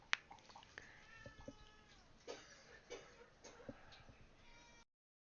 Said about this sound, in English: Cat's yelling at me.